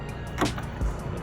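A car door lock actuator cycling, two short mechanical clunks about half a second apart, close and alone.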